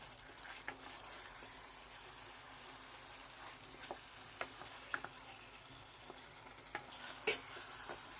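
Chicken is mixed with spices in a pan, a faint steady sizzle broken by a series of light scraping clicks from a stirring utensil.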